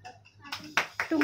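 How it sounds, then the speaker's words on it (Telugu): Children clap for the winner of a home game: a few sharp, separate claps in under a second and a half, with a voice at the end. "claps for city"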